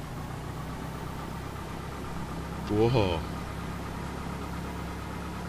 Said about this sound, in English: Engine spinning.